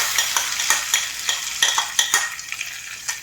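A paste of melon seeds, yogurt, green chilli and salt sizzles in a pan while being stirred for a quick vegetarian dish, with crisp rhythmic scrapes and clinks over a bright frying hiss.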